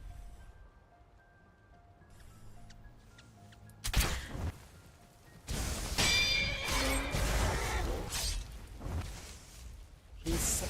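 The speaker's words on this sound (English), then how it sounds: "Why is the horse after me?" A summoned horse neighs loudly in modded Skyrim amid game sound effects, whooshes and bursts, after a quieter stretch with faint tones; a voice is briefly heard.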